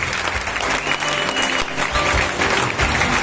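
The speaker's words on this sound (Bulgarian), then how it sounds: "Така че още веднъж силни аплодисменти!" Loud, sustained applause from wedding guests, a dense continuous roar of clapping close by with no break.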